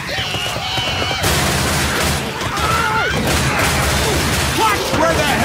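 Dense gunfire in Left 4 Dead 2 during the No Mercy campaign's Rehab stage on Advanced: loud, continuous volleys and booms overlap without a break, with game voices mixed underneath.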